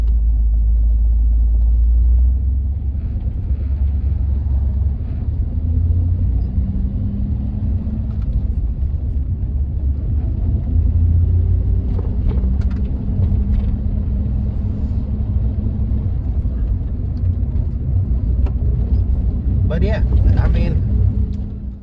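A 1989 third-generation Chevrolet Camaro, heard from inside, with a steady low engine and road rumble that carries throughout the drive and a few faint rattles and clicks near the end.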